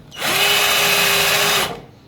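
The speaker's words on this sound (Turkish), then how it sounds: "Matkabın ucu aşağı yukarı sağa sola kayıp şöyle bir şeyle buraya iz açıyoruz." A power drill bores a hole during trailer wiring installation, a steady close whine that spins up, holds for over a second and winds down, with no talking.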